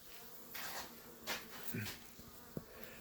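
Honeybees buzz in a dense, continuous hum up close during an indoor hive inspection, with occasional louder passes and small knocks, and a voice briefly audible underneath.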